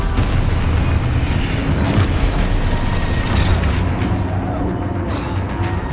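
Confringo spell explosions in the video game Hogwarts Legacy: a loud, continuous booming rumble with blasting bursts layered over each other across the whole stretch, without any talking.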